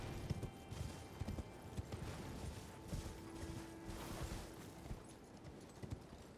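Horse hooves clip-clopping in a video game as the horse is ridden downhill, a faint, steady stream of light hoofbeats with some creaking mechanism sounds, no speech over it.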